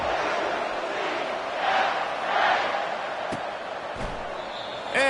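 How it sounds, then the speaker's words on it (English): A stadium crowd roars steadily at a college football video game between Colorado and UCF, with the noise swelling in waves and a few sharp thuds near the end. "And this crowd is ready for a big one."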